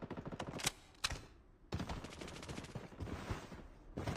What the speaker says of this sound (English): The enemy on the roof of the building starts shooting at me